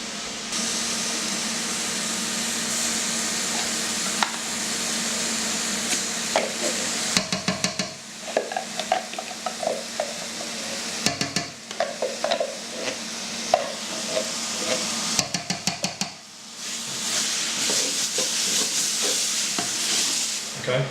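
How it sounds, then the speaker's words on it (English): Vegetables for a bolognaise sauce fry in a pan with a steady, bright sizzle, broken by repeated scraping and stirring strokes and short pauses as the pan is worked, close and fairly loud. "all the liquid's gone down, so it's that really nice frying sound"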